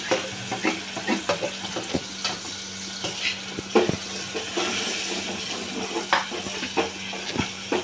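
Steady sizzling of spices frying in hot oil, with occasional stirring scrapes and crackles, close by and continuous.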